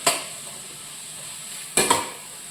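A duck roast masala being sautéed in a pan, with two short bursts of stirring and scraping against the pan, each followed by a brief sizzle, separated by a quiet stretch.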